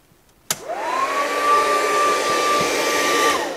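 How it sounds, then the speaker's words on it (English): After a sharp click, a hair dryer plugged into a newly replaced outlet starts and runs with a steady, loud whirring whine that holds evenly for about three seconds before winding down. "let's go ahead and hook back up our hairdryer and turn it on"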